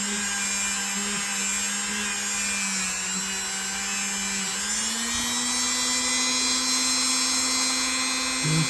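A rotary tool fitted with a rust-removal accessory grinds steadily against rusty metal, a continuous high whine that shifts pitch partway through, close and loud with no talking.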